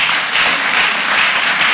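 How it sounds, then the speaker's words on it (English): A church congregation clapping for Jesus Christ at a healing service, producing a dense, loud, sustained wash of applause with no break. "Clap for Jesus Christ."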